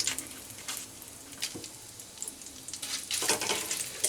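Bay leaves, whole cumin and dried red chillies frying in hot oil in a home kitchen, giving a steady close sizzle with a few louder crackling bursts near the end.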